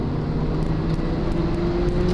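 A Mazda RX-7 FD sports car engine drones steadily from inside the cabin in third gear around 4,500 rpm, a low continuous hum with a slight rising pitch as it pulls under load.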